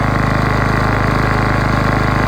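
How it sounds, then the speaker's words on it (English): A Ryobi portable generator's small engine runs steadily at close range, a loud, even mechanical drone with a fast regular pulse and no voices. "On the second pull, it started right up."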